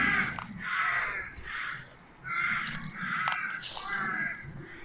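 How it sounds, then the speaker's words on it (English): Crows cawing in a graveyard, a series of harsh, repeated caws coming in bursts at moderate distance, with brief gaps between the calls and a faint outdoor background. "Graveyard wouldn't be complete without crows."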